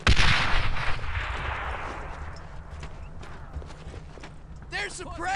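Gunfire and explosive blasts in a World War II shooter game, Brothers in Arms: Earned in Blood, with a loud burst at the start settling into steady background battle noise and someone shouting briefly near the end.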